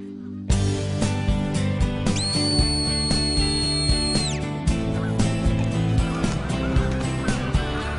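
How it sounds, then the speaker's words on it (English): A sharp two-tone shepherd's whistle commands a herding border collie at an airport bird-control site, held for about two seconds, with fowl calling and clucking loudly around it. "Just whistle."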